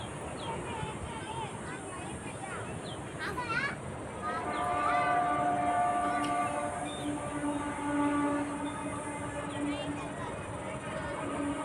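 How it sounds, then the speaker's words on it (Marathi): A train passes through Mumbra station near Mumbai, its steady rumble and screech building and holding for several seconds, with voices and background chatter over it. "मुंब्रा स्टेशन बघा ट्रेन."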